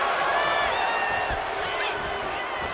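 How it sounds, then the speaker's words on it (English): The arena crowd in the WWE 2K25 wrestling video game gives a steady, dense roar of cheering throughout, with a few louder swells. "And Bayley's firing up the crowd here."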